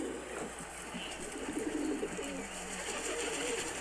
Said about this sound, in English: I came across what could have been, or is, in fact, I think a pigeon